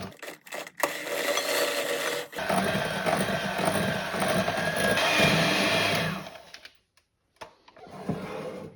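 An electric hand mixer beats mascarpone into an egg yolk mixture for a speculoos tiramisu, its steady motor whir running loud for several seconds before cutting out, with a few clatters around it.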